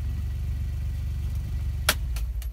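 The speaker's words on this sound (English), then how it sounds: "we were talking to you with the engine on" A 2018 Textron Prowler Pro XT side-by-side engine runs at a steady low idle, a close, continuous rumble with a few brief clicks near the end.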